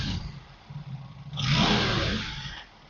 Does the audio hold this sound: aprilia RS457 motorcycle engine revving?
yes